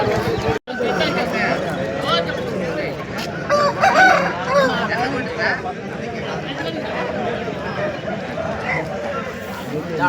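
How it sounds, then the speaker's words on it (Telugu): A Bhimavaram cross rooster crows at a busy Sunday hen market in Pileru, its call rising briefly over steady crowd chatter, clucking and nearby talk. "మీరు చూస్తున్న ఈ భీమవరం క్రాస్ పుంజు"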